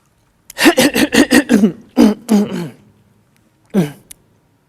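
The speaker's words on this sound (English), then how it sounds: "I'm clearing my throat." A voice clears its throat in a rapid series of harsh, guttural bursts, then two more short rasps and a final one after a pause, close and loud.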